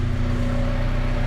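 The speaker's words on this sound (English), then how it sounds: "we're just going to leave the engine running a little longer just to make sure there's no residual leaking" A Honda Accord Type R engine idles after an oil change, holding a steady hum with a constant pulsing rumble and a stable tonal whine, close and even throughout.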